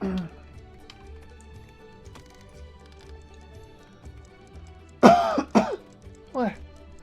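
After a long quiet stretch, a nearby voice lets out three short, harsh coughs in quick succession that sound partly spoken, as if imitating a cough.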